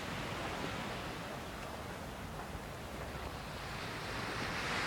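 Ocean surf washes steadily onto the beach in front of the market at Saint-Paul, Réunion, a continuous broadband roar of breaking waves with some wind, swelling slightly louder toward the end.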